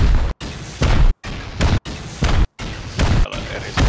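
Gunfire in the survival video game Rust, a run of loud, heavy booming blasts with short silent gaps between them, close and forceful.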